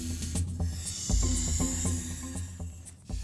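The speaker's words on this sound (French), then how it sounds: "le fennec a entendu le sifflement du serpent." A horned viper's hiss comes in repeated bursts over a low rumbling desert backdrop, fairly close and moderately loud, with no voices.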